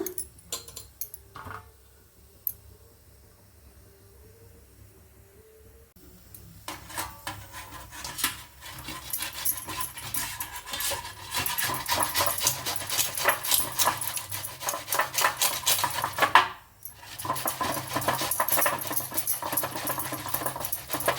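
Rapid, continuous rasping strokes of raw mango being grated on a hand grater, close and steady, after a short quieter stretch at the start.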